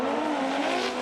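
A Nissan R34 and Saito Daigo's drift car scream side by side through a corner at Formula Drift Japan Okayama, loud sustained high-revving engines with tire squeal, close and intense for a brief burst.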